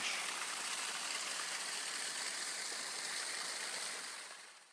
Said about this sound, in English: There's a little waterfall there.